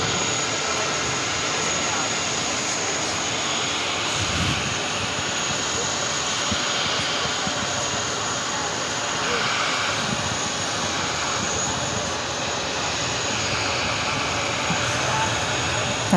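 An American Airlines jet arriving from Barcelona at JFK gives a steady, moderately distant engine roar that holds evenly throughout, with a faint hiss above it.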